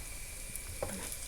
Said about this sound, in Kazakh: Енді де осының екі жағын қазір қуырамын.